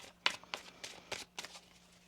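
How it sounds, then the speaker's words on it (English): Tarot cards being shuffled up close in a quick series of crisp riffling bursts, five or six short flicks in a row against a quiet backdrop. "One more shuffle."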